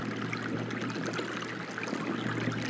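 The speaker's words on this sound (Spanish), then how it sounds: "Esto se corresponde con la cascada, la fuente más antigua de la Alhambra del Generalife." Water from the cascade of the oldest fountain at the Alhambra's Generalife in Granada pours in a steady, dense rushing splash, close and continuous throughout.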